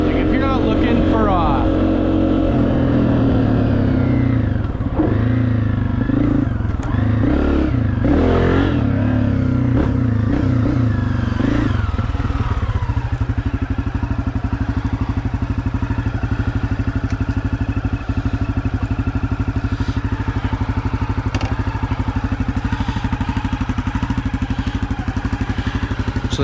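A 2023 Honda CRF250F dirt bike engine revs and accelerates loudly up close, then settles into a steady drone while riding, with a voice talking over it at times.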